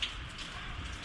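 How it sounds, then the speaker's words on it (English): Rain beginning to fall during outdoor work on a 12-valve Cummins diesel, a steady soft hiss of drops on surfaces, fairly close and continuous with no talk. "Now it's gonna rain."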